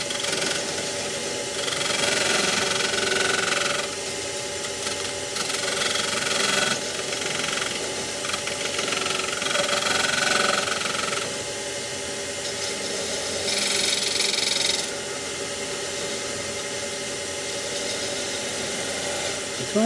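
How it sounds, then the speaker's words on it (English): Skew chisel cutting end grain on a wood lathe for a multi-axis candlestick holder: a steady whirring hum of the spinning lathe, with raspy cutting bursts rising and falling in several passes. "I have to say the skew works really nice on this end grain."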